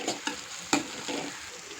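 Masala powders tipped into onions and tomatoes frying for dal khichadi, with a soft sizzle and a few sharp spoon scrapes against the pan, close and fairly quiet.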